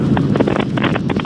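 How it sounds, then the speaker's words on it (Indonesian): Strong wind buffets the microphone on a fast-moving Yamaha Mio J motorcycle, a loud continuous roar with gusty fluctuations. "Anginnya gila."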